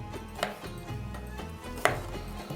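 A knife chops through chicken pieces on a board, two sharp distinct strikes standing out over a low, steady kitchen background, close and fairly quiet.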